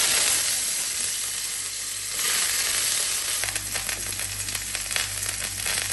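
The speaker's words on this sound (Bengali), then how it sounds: "প্রথমে আমি আলুগুলাকে ভেজে নেব।" Potato pieces sizzle and fry in oil in a hot kadai, a steady close crackle with a stirring scrape and clatter partway through and no voices.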